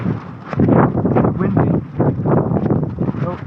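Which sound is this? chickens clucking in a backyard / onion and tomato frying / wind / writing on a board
wind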